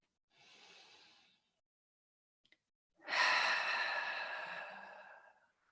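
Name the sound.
yoga breathing, inhaling and exhaling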